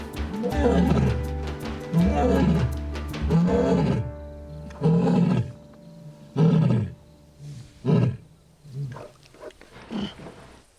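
A lion roars in a series of deep, heavy bursts, each fading into a low rumble, repeated about eight times with short pauses between.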